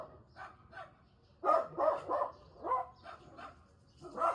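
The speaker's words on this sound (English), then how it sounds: "There's a random dog walking down the road, too." A small Dachshund barks in a quick series of sharp, fairly close yaps, with a burst of louder barks in the middle, over a quiet outdoor background.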